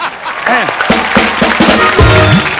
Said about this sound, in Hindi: तो जोरदार तालियां प्लीज।